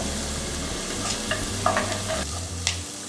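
Food sizzles in a pan as it cooks: a constant bright hiss with a few clicks and scrapes from stirring, over a low steady hum, with no voices.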